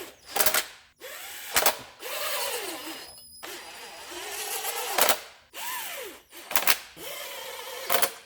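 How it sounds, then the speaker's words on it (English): Impact gun fired in repeated short bursts while a new oil pan goes onto a 2010 Dodge Grand Caravan 3.3; five or six sharp whirring rattles sit up close, with a whining hum between them. "I know you're hearing my impact gun going"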